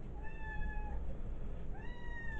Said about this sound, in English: Ignore the cat.